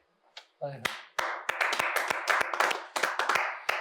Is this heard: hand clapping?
yes